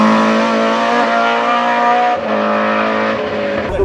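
Historic rally car racing flat out on a Vltava Rallye stage in the FIA European Historic Rally Championship, a loud, close engine howling steadily with shifting revs and a brief dip near the end.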